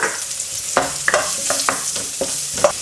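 Red onion and garlic fry in merguez-flavoured oil while a utensil stirs them, giving a constant loud sizzle broken by about half a dozen sharp scraping knocks against the pan, with no one talking.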